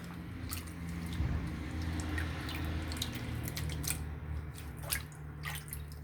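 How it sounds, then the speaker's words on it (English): Water rinsing soap lather off, with soft drips and splashes running steadily and quietly and no voices. "So we're gonna rinse that off."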